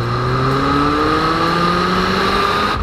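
Volkswagen Golf GTI Mk3 16V with ABF engine revving past 4000 rpm, a loud, close, continuous drone whose pitch climbs smoothly as revs build, without any voices.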